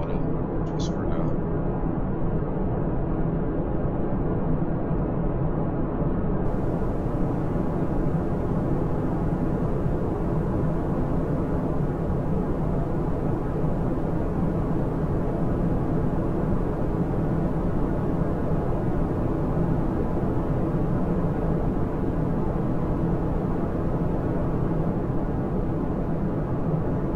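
Rocket engine roar from a Kerbal Space Program launch vehicle with big solid boosters, heard as a steady, loud, continuous rumble under the main throttle, with talk over it throughout.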